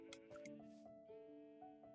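Sheep on a Minecraft farm bleat several times in quick succession, overlapping nasal calls that sound fairly faint and close together.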